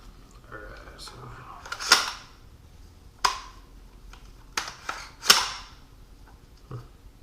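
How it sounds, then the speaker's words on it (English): Desert Tech MDR rifle bolt assembly snapping forward from its locked-back position, a few sharp metallic clacks and clicks spaced apart, close and fairly loud over quiet handling noise. "Release the bolt assembly by pressing the charging handle downward to disengage it from the locked back position."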